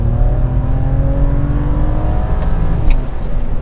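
BMW E92 running E25 fuel and accelerating hard onto a highway, a loud, close engine drone with rising tones that holds steady for several seconds, heard from inside the car with no talk.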